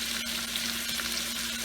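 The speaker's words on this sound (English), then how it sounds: "So I'm going to mix the masala nicely" Fish masala sizzles softly in a pan as it is stirred, a faint, even frying hiss with light scraping touches, no voices.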